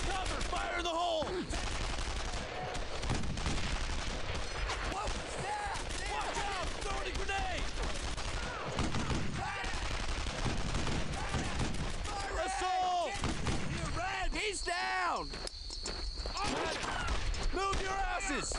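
Sustained battlefield gunfire in Brothers in Arms: Earned in Blood, heavy volleys of rifle and machine-gun shots rattling on for many seconds, with soldiers' voices shouting over the loud barrage.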